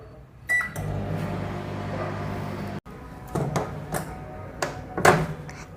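Microwave oven baking chocolate cake batter hums steadily for a couple of seconds, then clicks and clunks follow, likely the door and handling, with a few sharp knocks near the end.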